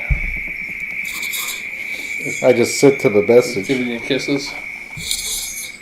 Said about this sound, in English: those crickets or whatever you got going on there are getting loud